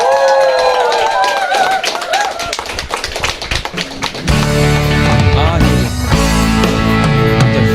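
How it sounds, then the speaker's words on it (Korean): Audience clapping welcomes two business guests onto a stage for a leadership Q&A session, a burst of applause that gives way midway to loud entrance music. "박수로 모시겠습니다"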